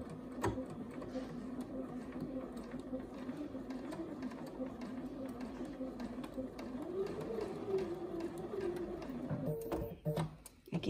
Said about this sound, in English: now we're ready to sew this curve